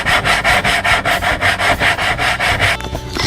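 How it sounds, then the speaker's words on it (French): Electric sander working over wooden joints on a homemade light fixture, a loud close-up rasping scrub pulsing in a steady rhythm of about three strokes per second, with no voices. "on va lui mettre un coup de ponceuse"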